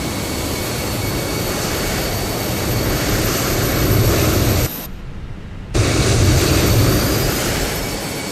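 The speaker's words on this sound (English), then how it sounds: "Where's that airplane that's making such a racket?" Loud, steady roar of an airliner's engines in Microsoft Flight Simulator 2024, a broad continuous rumble with a brief dip in the middle, close and without speech.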